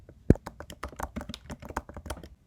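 Fingers type on a computer keyboard close by, a quick, uneven run of light clicking keystrokes with one sharper tap near the start, and no voice over it.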